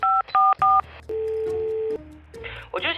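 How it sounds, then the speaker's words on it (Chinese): A telephone keypad sends three short, loud dialing beeps in quick succession, then a long steady tone follows. A brief, quieter stretch of mixed sound closes the call setup. "我先拨通了业内行家的电话。"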